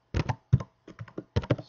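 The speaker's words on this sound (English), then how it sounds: "excuse the noise of the keyboard." Typing on a computer keyboard, several quick clusters of key clacks in uneven bursts with short pauses between, close and fairly crisp, no voices.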